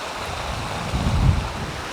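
A stream flows beneath a wooden footbridge in hilly moorland, giving a steady broadband rush of water mixed with wind buffeting on the microphone, with a brief low swell midway.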